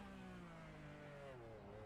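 A race car in a sim racing game at the Hockenheimring braking into a corner and downshifting to first gear, engine tones stepping and sliding downward, faint and steady with no voices.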